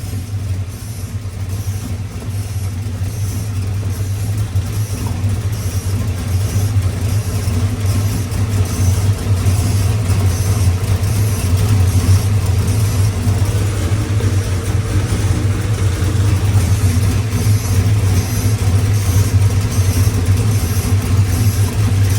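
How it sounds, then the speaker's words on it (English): The LS-swapped 1978 HZ Holden's V8 sits idling close by, a steady low rumble with a constant drone that holds even throughout, no voices over it. "Hopefully you can hear me over the sound of the car."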